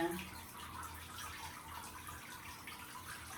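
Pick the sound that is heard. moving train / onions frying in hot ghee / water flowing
water flowing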